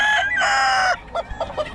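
A rooster crows loudly and close, then a few short clucks follow in quick succession.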